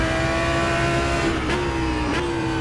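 A naturally aspirated GT3 race car engine in the rFactor 2 sim holds a loud, steady drone through the whole stretch, with two quick upshifts briefly dipping and recovering the pitch, and no talk.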